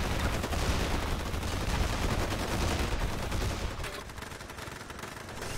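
Rapid turret gunfire from the real-time strategy game Forged Battalion, a dense continuous rattle of shots that fills the whole stretch and thins slightly toward the end.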